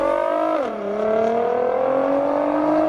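A C8 Corvette Z06's 5.5-liter flat-plane-crank V8 holds a steady high-pitched wail, dipping briefly in pitch and then settling into a constant loud, buzzy drone, close and alone.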